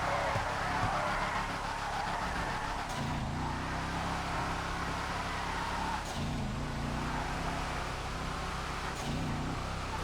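A Massacro drift car skids around a racing circuit in GTA FiveM, its tyre squeal and engine roar filling the scene continuously, with the pitch dipping and recovering about every three seconds as it slides through the turns.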